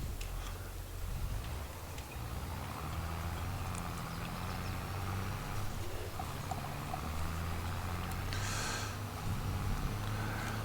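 A tractor engine in Farming Simulator 22 idles with a steady low drone throughout, moderately loud, with a faint rhythmic ticking on top.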